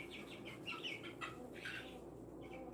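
Astrolope–Jersey Giant cross chicks make soft, faint clucking and peeping calls while eating, scattered over a low, steady background hum.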